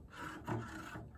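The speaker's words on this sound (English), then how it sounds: "I'm going to take my end pin out of my cello. So I'm going to turn it once to the left and pull it out." Soft scraping rub as a cello end pin is turned and drawn out of its wooden socket, a faint short gritty friction sound with a slight bump in the middle.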